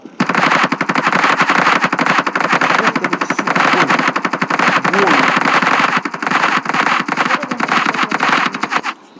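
Loud, rapid automatic gunfire from the video game Standoff 2, rattling in long continuous bursts, with voices talking underneath.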